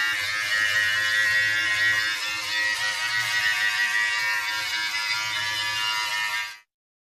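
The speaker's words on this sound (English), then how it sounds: "So here we are, 9 millimeters on the trimmer." An electric beard trimmer set to 9 millimeters buzzes close and loud with a steady high-pitched whine, low cutting rumbles pulsing underneath, then cuts off abruptly near the end.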